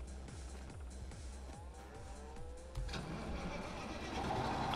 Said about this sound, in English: Oh yeah, listen to that baby kick the engine up.